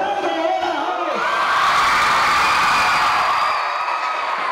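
A crowd at a public speaking contest event in Chalatenango lets out a loud group cheer, a swelling blend of many voices shouting together that holds for several seconds and then fades.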